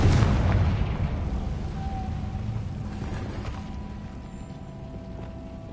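A Confringo fire spell explodes in Hogwarts Legacy, a single loud boom at the start that rolls off into a long, fading rumble with no voices.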